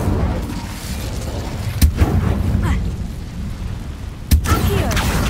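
Incendio fire spell cast in the video game Hogwarts Legacy, with two sharp, loud bursts a few seconds apart over a steady low rumble of game ambience.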